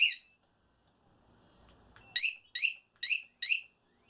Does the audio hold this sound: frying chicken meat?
no